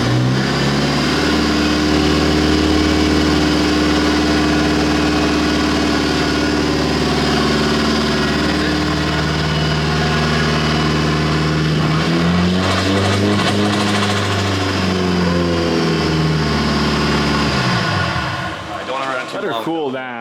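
A car engine running without coolant idles steadily and loud up close, its pitch swelling and falling as it revs, before cutting off near the end, with people talking over it.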